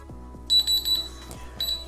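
A kitchen timer goes off after ten minutes, sounding short bursts of high electronic beeps in a quick repeating pattern, fairly close, with faint clicks and a low background hum; no talking.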